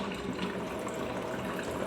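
Water running from a kitchen tap, a steady close gushing stream with no talk over it.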